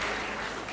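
An audience at a Britain's Got Talent 2009 audition claps briefly, a dense burst of applause that holds steady and fades slightly at the end.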